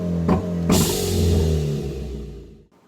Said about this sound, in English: Do launch control just so you can hear the sound of the exhaust plus the blow-off valve spacer.